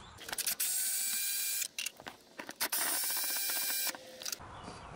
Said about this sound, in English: the final part to removing this plastic cover is these two 8 millimeter bolts